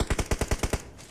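Rapid automatic gunfire from a multiplayer shooter video game, a burst of about eight evenly spaced shots fired in quick rhythm that stops abruptly, fairly quiet with no talk.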